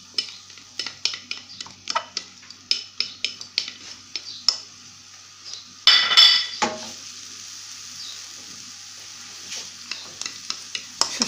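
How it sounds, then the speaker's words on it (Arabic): Onion sautéing in oil in a frying pan: a spoon taps and scrapes the pan in quick close strokes, then a burst of sizzling as the onion hits the hot oil and keeps hissing softly. "عملت هنا شويه ديال الزيت في المقله، وغندوز نشحر البصيله."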